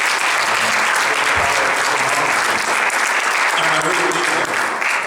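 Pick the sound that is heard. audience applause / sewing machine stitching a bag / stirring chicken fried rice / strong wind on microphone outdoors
audience applause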